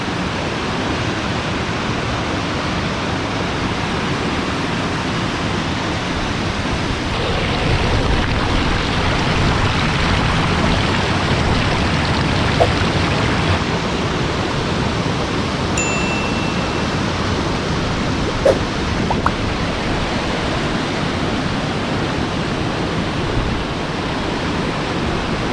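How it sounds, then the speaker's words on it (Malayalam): A waterfall roars continuously from right where the water crashes down, a loud, unbroken, dense rush of falling water that stays steady throughout. "അപ്പോൾ നമ്മൾ ഈ വെള്ളച്ചാട്ടം ചാടുന്ന സ്ഥലത്താണ് നിൽക്കുന്നത്."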